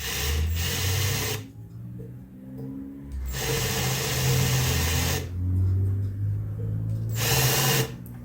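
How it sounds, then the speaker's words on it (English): A power drill whirs in three bursts, drilling a recess for a screw head during exhaust manifold prep for a 1974 Dodge D100 225 Slant 6, each revving steadily for a couple of seconds with short pauses between, close and loud. "we're just going to drill that in there just enough to recess the head of that screw"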